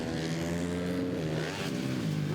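A supermoto motorcycle engine races on board during a Grand Prix round at Albaida, Valencia, its harmonic drone loud and close, steady with a brief throttle lift and pitch shift midway before pulling hard again.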